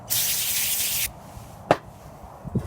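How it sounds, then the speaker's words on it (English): Exhaust parts for a VW Beetle 2054cc upgrade get sprayed and wiped with brake cleaner: a one-second hiss of spray, then a sharp rub and a couple of soft cloth scuffs, close and quiet. "Wipe them down real well."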